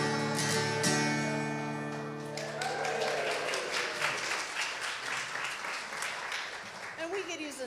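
Audience applause fills a Sunday service at a Unitarian Universalist church, rising out of the end of a sung piece and continuing as a dense, steady wash of clapping with the music fading underneath.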